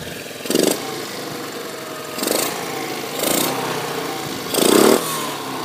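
A homemade go-kart engine runs steadily at a close, constant idle, with four brief louder surges as the throttle is blipped, and no talking over it.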